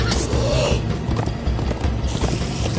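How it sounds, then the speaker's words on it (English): Horses gallop and neigh in the Minecraft Story Mode video game, with rapid rhythmic hoofbeats throughout and a rising whinny early on, loud and close, amid game sound effects. "Come on, horses!"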